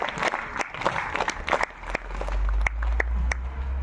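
Audience applause at a state-level Surya Namaskar teacher training session in Ambad, Jalna, heard as a burst of scattered claps close by, giving way to a low rumble.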